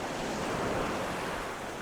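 Sea waves wash steadily along the Danish coast in a continuous broadband surf roar, with some wind noise and no voices.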